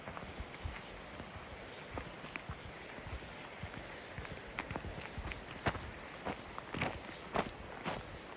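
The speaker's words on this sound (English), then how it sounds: "We're walking back through this side trail on the outskirts of 23D." Footsteps on a side trail near a campground in the Panther Creek area, a steady run of crunching steps close by over a soft outdoor background, spaced fairly evenly with a few heavier footfalls later on.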